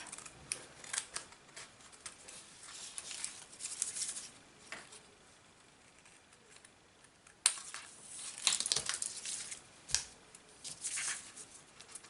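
Scissors cut through paper and adhesive sheets in a papercraft herringbone technique, quiet close snips and crisp rustling in irregular bursts with a lull in the middle.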